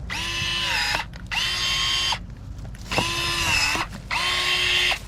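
Battery-powered electric pruning shears cut through pomegranate tree branches in two motorized bursts, each a steady whirring pull of a second or so, separated by short pauses and faint mechanical clicks.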